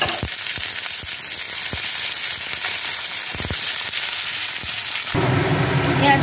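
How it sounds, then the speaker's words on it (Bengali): Onion frying in hot oil in a wok, with pach phoron spices, bay leaf and dried chilli, makes a loud, close, continuous crackling sizzle with sharp pops scattered throughout, swelling brighter near the end. "পেঁয়াজ ভাজা হয়ে গেছে"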